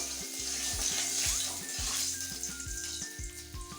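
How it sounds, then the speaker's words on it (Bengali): Fish sizzling in hot oil for a Bengali recipe, a bright steady hiss with a low rhythmic pulsing underneath, close and continuous without speech. "মাছগুলো আমি একটু কড়া করে ভেজে নেবো,"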